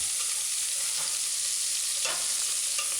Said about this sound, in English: So now add the diced scallion and the diced onion and saute.